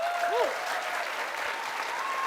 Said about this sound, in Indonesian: tepuk tangan sekali lagi boleh buat Rocky.